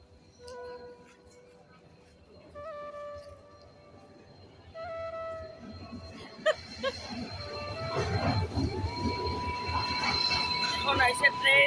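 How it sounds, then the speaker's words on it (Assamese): A train rolling into a station on the Guwahati–Kamakhya route, faint at first with high-pitched wheel squeals and tones, then growing louder as rumbling carriages pass near, with people talking in the background. "এখন আহিছে ট্ৰেইন"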